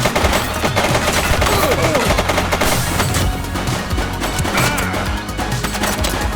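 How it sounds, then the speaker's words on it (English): Gunfire in The Precinct video game, sustained and dense over loud game music and effects, continuous for several seconds with no clear gaps. "She's shooting!"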